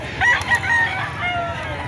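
A Golden Boy rooster at a chicken market in Padre Garcia, Batangas, crowing nearby in short, raspy bursts amid market clucking and background chatter.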